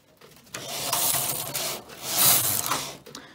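A single bed knitting machine carriage swishes across the needle bed in two steady passes while knitting rows, a close, continuous rasping slide with no talk.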